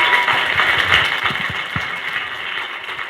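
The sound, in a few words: audience applause at a leadership panel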